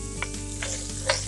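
Chopped onion and green chilies sizzling steadily in hot oil in a pan for a spiced green peas curry, a constant close crackle with a few soft stirring scrapes over it.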